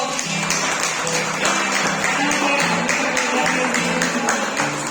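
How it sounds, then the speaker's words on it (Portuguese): A church congregation claps in praise during a worship service, with rhythmic clapping blending into a continuous bed of music throughout. "você pode aplaudir ao Senhor"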